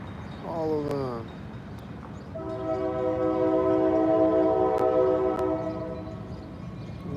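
A passing train sounds its horn, first in a brief sliding blast and then in a long, loud, sustained chord over a steady rumble of rolling cars.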